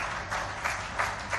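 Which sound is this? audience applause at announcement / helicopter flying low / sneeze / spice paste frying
audience applause at announcement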